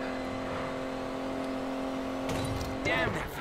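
Aston Martin in Need for Speed Payback, a steady engine drone rising into a surge of acceleration near the end, with voices over the top.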